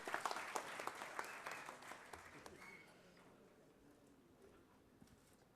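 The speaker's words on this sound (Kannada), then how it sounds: "ಮಾನ್ಯ ಮುಖ್ಯಮಂತ್ರಿ ಚಂದ್ರು ಸರ್ ಅವ್ರಿಗೊಂದು ಜೋರದ ಚಪ್ಪಾಳೆ" Audience applause for a guest at a stage event, a burst of many hands clapping that is loud at first, then thins out and fades to a quiet room.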